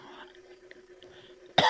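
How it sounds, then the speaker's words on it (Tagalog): A single short, sharp cough bursts out close by at the end, following a quiet stretch of faint background noise. "Ubo talaga ako."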